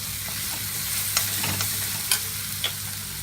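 Liver frying in oil in a pan makes a low, continuous sizzle, close and fairly quiet. A few sharp scrapes and clinks from stirring cut in at irregular moments, and there is no talk.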